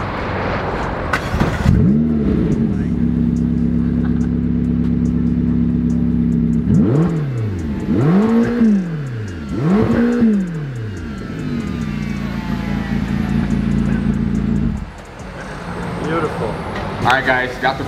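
A McLaren GT sports car engine idles loudly, then is revved in three sharp rising-and-falling bursts before settling back to a steady idle, close by and loud throughout.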